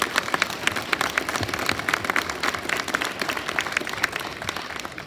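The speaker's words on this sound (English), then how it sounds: "Please give them a round of applause." An audience at a 2022 DARE graduation ceremony in Osakis applauds for award winners. The clapping is dense and sustained, with a rain-like patter that holds steady throughout.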